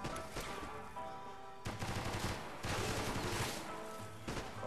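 Automatic gunfire in Max Payne 3, with rapid full-auto bursts cut by a sharp break, followed by further sustained rattling volleys, fairly close and with no talk.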